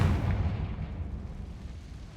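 A Confringo fire spell blasts off in Hogwarts Legacy with a sharp, booming burst, then a low rumbling roar that slowly fades over a couple of seconds.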